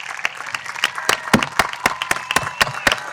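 Graduating high school students applaud family and friends in the stands at a graduation ceremony, a crowd's clapping with loud, close individual claps punctuating a reverberant wash of applause and faint cheering.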